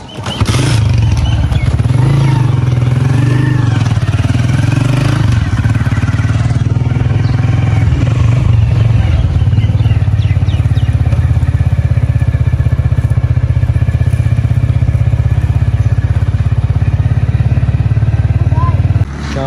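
A motorcycle rides along a road, its engine giving a loud steady low rumble close by with wind noise throughout, while voices talk intermittently over it.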